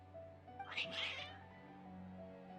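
Cats in a video game let out a short burst of agitated meows and caterwauling, two close, loud cries near the start over a steady low background hum, then fading back to quiet ambience.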